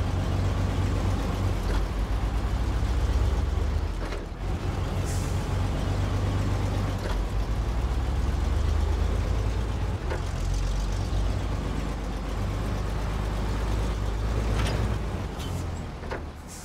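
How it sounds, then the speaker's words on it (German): An old American truck in the SnowRunner off-road game runs its engine, a loud, steady, deep rumble that lasts throughout, with occasional brief hissing clunks and no voices. "Der Motor klingt auf jeden Fall sehr kräftig."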